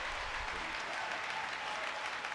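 A church congregation applauds together in a dense, steady burst of clapping with a faint murmur of voices.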